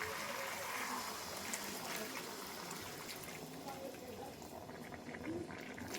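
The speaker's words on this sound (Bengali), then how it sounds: "চিকেনটা আর আলুটা দিয়ে এখন আমি গরম জলটা দিয়ে দেব" Hot water pours into a pot of sautéed chicken and potatoes, a steady rushing, bubbling stream that runs continuously at moderate volume with faint sizzling beneath.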